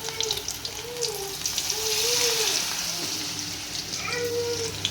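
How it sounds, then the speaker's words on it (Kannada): Cauliflower kababs (gobi kabab) frying in oil in a pan give a steady, close sizzling hiss that runs throughout, with a person talking in snatches over it. "ಸ್ವಲ್ಪ ಫ್ರೈ ಆಗಲಿ"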